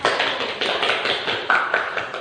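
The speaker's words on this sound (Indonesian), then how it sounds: "Tepuk tangan dulu untuk kelompok 1" Classroom applause for a student group: a small group of people clapping by hand in a fairly loud, uneven patter of close claps, steady throughout with no talking.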